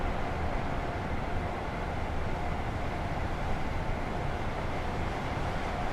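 Train running on the West Coast Main Line through the Trent Valley in Train Sim World, a steady close rumbling roar of wheels and motors at speed, unchanging throughout.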